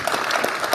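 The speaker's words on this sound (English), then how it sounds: "Can we give Ben a round of applause?" Audience applause at a tech conference session, TrailblazerDX 2024, a brief steady patter of clapping at moderate level with no voices.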